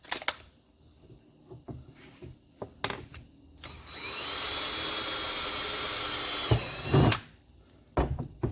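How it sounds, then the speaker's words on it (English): A power drill bores into an aluminum hood stud on a 2015–2022 Mustang, a loud steady whine lasting about three seconds, framed by clicks and handling noises before and after. "I need to go one step higher on my drill bit"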